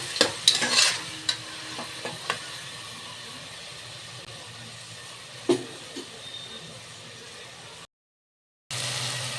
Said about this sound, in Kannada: ನೋಡಿ ಟೊಮೆಟೊನೆಲ್ಲ ಹಾಕೊಂಡಾದ್ಮೇಲೆ ಈ ರೀತಿ ಹುರಿಬೇಕು.